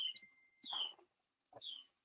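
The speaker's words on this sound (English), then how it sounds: "I'm hearing birds too" Small birds chirping at dusk: three short, clear calls spaced across about two seconds, close and fairly quiet with silence between them.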